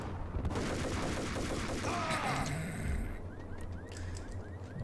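Continuous bursts of rapid gunfire in the video game Max Payne, dense overlapping shots, steady throughout, with a brief metallic whoosh partway through.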